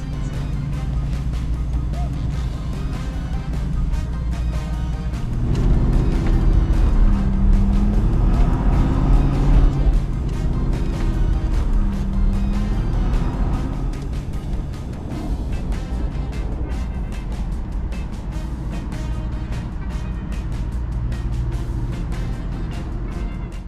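A 2006 Cadillac XLR driving, its engine note rising and falling through steady acceleration and shifts, loud and continuous throughout with road and wind noise.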